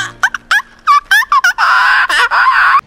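A cartoon character from She-Ra imitates a seagull with a voice: loud, close squawks in quick choppy bursts that run into longer, wavering cries.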